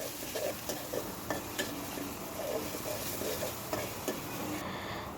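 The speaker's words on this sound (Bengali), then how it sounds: "এখন পেঁয়াজ, রসুন, কাঁচামরিচ কুচিগুলো আমি একটু ভেজে নেব" Chopped onion, garlic and green chili sizzle in hot oil in a pan, a steady crackling hiss throughout with a few brief stirring scrapes and clicks.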